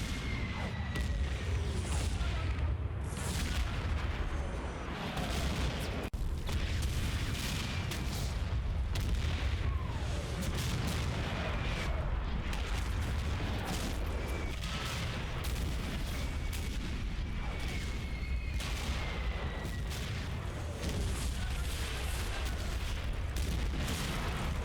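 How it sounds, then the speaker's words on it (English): An 81mm mortar barrage in Combat Mission Fortress Italy, fought over Borgo Cascino, rumbles as a continuous stream of booming impacts and crackling blasts, dense and steady throughout without any voices. "The last of the 81mm mortars are used on the target reference point"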